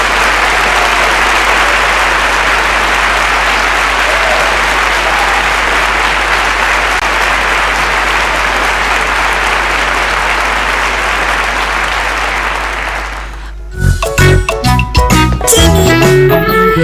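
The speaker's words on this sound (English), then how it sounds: "A round of applause." Steady, dense applause from a studio audience on a live radio show, holding loud and even for about thirteen seconds before cutting off as music begins.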